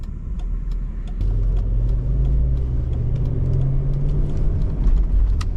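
A 2004 Mercedes-Benz ML500 SUV pulls away on a test drive, its engine giving a steady, close low rumble that swells as it accelerates, with no talking.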